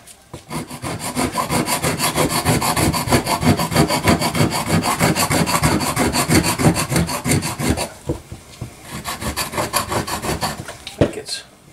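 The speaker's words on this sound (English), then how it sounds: "Quite a bit of carbon buildup on the side of this piston, some on the top." Carbon buildup being scraped off the side and top of a Kohler KT17 engine piston, a loud close rasping scrape in rapid strokes for about eight seconds, then a pause and a few lighter scrapes.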